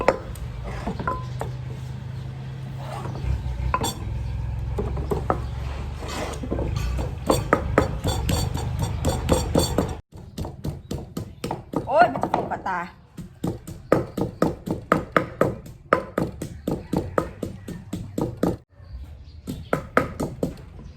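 Pounding of a stone pestle in a mortar while making a spicy Thai-Lao salad with tamarind and chilies, a steady run of sharp rhythmic thuds and clacks close by, with someone talking over parts of it.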